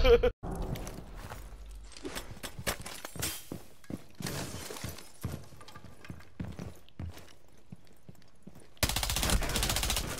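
Video game gunshots fired in quick single cracks and short bursts, with footsteps between shots and talking and laughter over the action.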